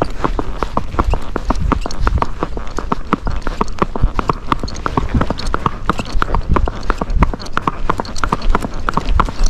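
Rapid, steady hoofbeats of a Fox Trotter horse in gait striking a hard road, loud and close, a continuous rhythmic rhythm.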